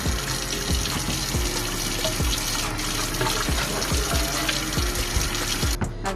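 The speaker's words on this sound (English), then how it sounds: "Just gonna rinse my hand with some soap and water." Running tap water pours over soapy hands as they are rinsed at a kitchen sink, a steady close splashing stream with small irregular splatters throughout, no talking.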